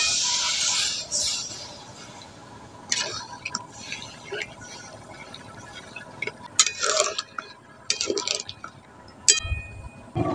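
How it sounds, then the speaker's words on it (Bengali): Water is poured into a pot of taro curry during cooking, a faint splashing trickle at the start followed by scattered clinks and taps of utensils against the pot. "এবার পরিমাণ মতো জলটা দিয়ে দিচ্ছি।"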